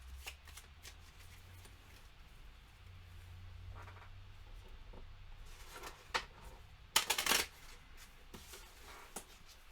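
Playing cards shuffled for a solo board game, a quiet tabletop scene with small handling rustles before a loud riffle burst, then faint shuffling after.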